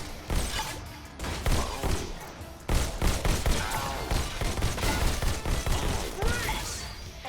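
Energy rifle fire in the VR shooter Robo Recall, dense rapid bursts of shots and impacts crackling throughout, loud and busy with a game voice talking over parts of it.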